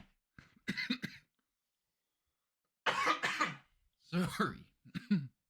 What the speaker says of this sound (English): That was a weird coughing fit.